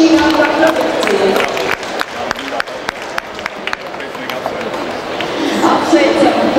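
Audience clapping for a young entrepreneur presenting chocolate products at a local Aizkraukle TV event, a sustained wash of applause with scattered sharp claps and crowd chatter, with some talk mixed in.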